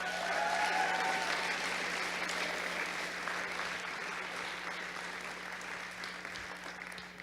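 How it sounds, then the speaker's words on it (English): Steady applause from an audience at an FTC robotics opening ceremony, dense clapping that holds for several seconds and slowly fades a little toward the end. "Let's give them another round of applause."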